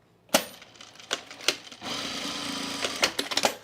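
A sewing machine stitches the waistband side seams of jean shorts: sharp clicks and knocks, then a steady mechanical whirr of stitching that ends in a few more clicks, close and clear.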